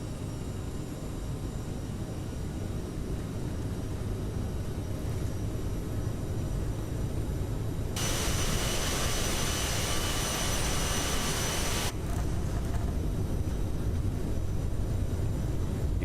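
Simulated CRJ5 jet engines spool to takeoff thrust in Microsoft Flight Simulator on departure from Willemstad, Curaçao: a steady, loud, broad roar with a brighter, hissier surge partway through before settling again.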